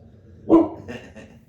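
A house dog gives one sharp, loud bark followed by a couple of softer, shorter yips, close to the microphone, with no talk over it.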